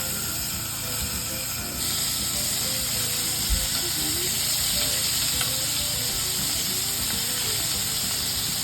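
Batter-coated oyster mushrooms sizzle steadily in a hot pan at an off-grid cooking setup, a continuous close frying hiss with faint crackles and a brief clatter partway through.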